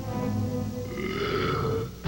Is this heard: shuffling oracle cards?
no